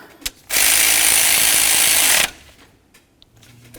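A ratchet snugs an intake manifold nut on a Chevy C/K engine during an intake gasket job. It gives one loud, close, continuous burst of rapid clicking lasting nearly two seconds, followed by quiet handling noise.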